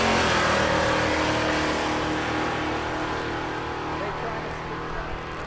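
A pickup truck and a Mustang launch side by side at a drag strip race in Ennis, Texas, with loud engine roar fading slightly as they pull away, under continuous announcer commentary.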